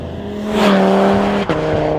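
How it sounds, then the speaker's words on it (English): A 2025-era Audi TT RS five-cylinder engine revs up loudly and close, its tone rising into a strong, throaty drone, then dips briefly before holding steady again. "the induction sound, the engine noise, and that, my friends, is Audi's signature 5-cylinder engine"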